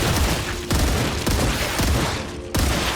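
Burst-fire gun shooting in the sci-fi video game StarRupture, loud sharp bursts of rapid shots in quick succession with short pauses between them, no talking.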